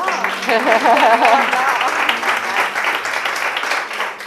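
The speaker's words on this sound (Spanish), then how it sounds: "Un aplauso para ella, por fin, que se está..." Audience applause at a talk on emotional dependence, a short, loud burst of clapping from a small crowd with a voice speaking over it at the start.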